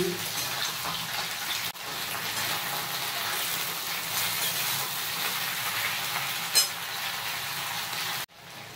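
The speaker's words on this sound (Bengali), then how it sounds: "পোরুলটা ততক্ষণে ভাজা হতে থাক" Chopped pointed gourd (potol) fries in a pan over a cumin tempering, making a continuous close sizzle and hiss at moderate level, with a couple of brief knocks from a utensil and no talking.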